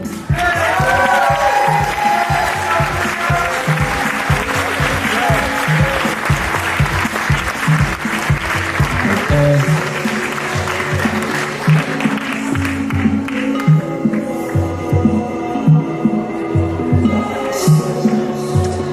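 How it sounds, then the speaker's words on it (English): A pageant crowd claps loudly for two tied winners, dense applause with some cheering that carries over music, then thins toward the end. "Big round of applause for Mrs. Downtown DC and Mrs. DuPont Circle, Sabrina Campbell"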